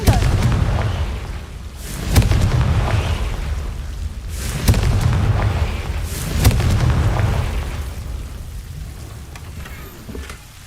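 A Confringo explosive spell blasting in Hogwarts Legacy, several heavy booming bursts spaced a couple of seconds apart, each swelling and rumbling down over a steady hissing background.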